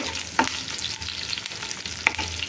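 Chopped onion sizzles in a hot pan for vegetable rava upma, a continuous crackle close by punctuated by two sharp scraping stirs, with no one speaking.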